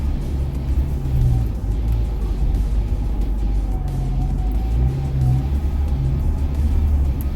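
Ford Ranger Wildtrak Super Cab pickup bouncing over bumpy off-road sand with tyres not deflated, a steady loud low engine rumble and road roar running throughout with slight surges.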